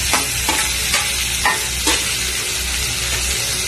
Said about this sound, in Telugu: ఎర్రగడ్డలు ఉడికాక వేగాక టమాటా వేస్తున్నాను